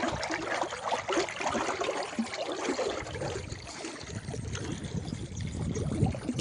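Irrigation water pours steadily into a barrel in a cumin and coriander field, making a continuous soft rushing and splashing sound at moderate distance.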